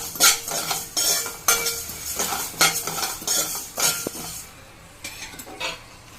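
Whole spices such as coriander seeds and cumin are stirred in a hot pan while they roast for a prawn pickle. A utensil scrapes and clinks against the metal in repeated close strokes over a soft sizzle, with no voices.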